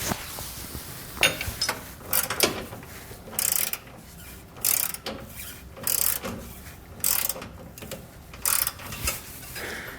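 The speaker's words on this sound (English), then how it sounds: "We're going to need a 17mm socket and wrench in order to tighten this." A 17mm socket and wrench tighten a bracket bolt while Air Lift LoadLifter 7500 XL air helper springs are fitted on a 2016 Ford F-series truck, giving repeated bursts of ratcheting clicks at steady intervals, close and fairly loud, with no talking.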